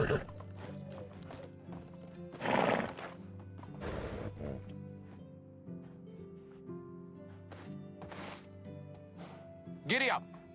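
Horse hooves clip-clopping with occasional neighs in the Medieval Dynasty village-building game, under steady harmonic background music, with a few louder bursts.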